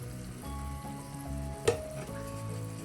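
Tomatoes sautéing in a pan for a coconut Ayala mackerel fish curry, a continuous moderate sizzle with a low cyclic hum behind it and one sharp clink of a utensil partway through.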